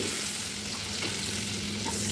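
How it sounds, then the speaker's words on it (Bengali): Prawns frying lightly in mustard oil in a pan make a dense, loud, continuous sizzle close by, with no voices over it. "এখন একটা পাত্রে কিছুটা সরিষার তেল দিয়ে মাছগুলোকে খুব হালকা করে ভেজে নিতে হবে।"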